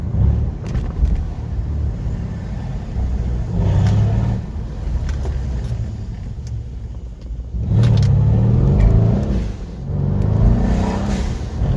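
A Mercedes C-Class W205 accelerates with a low engine rumble that swells and drops in several surges as it shifts gears, heard loud from inside the car with road noise beneath.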